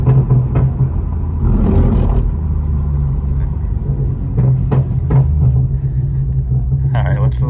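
A BMW M240i with a Stage 3 tune, driven gently under light throttle, holds a deep steady engine rumble and whir with a few swells in revs, while voices talk over it in the cabin.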